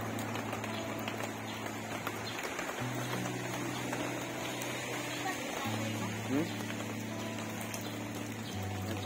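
Steady rain falls onto a new tarp, giving a continuous wet wash of drops close by while people chat over it.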